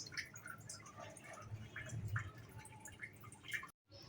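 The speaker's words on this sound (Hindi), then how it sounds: "तो ये देखें अब मैं इसको छान रही हूँ" Homemade juice for a sleep remedy drips and trickles through a kitchen strainer, a soft, close, continuous liquid patter with small splashy squishes and a brief silent gap near the end.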